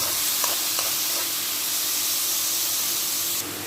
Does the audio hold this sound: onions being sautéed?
yes